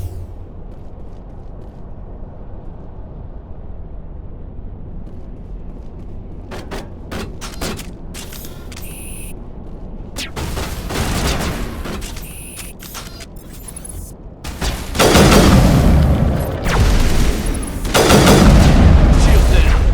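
Gunfire in the video game Mass Effect comes in loud, dense bursts of rapid shots and booms that build toward the end, mixed with voices talking.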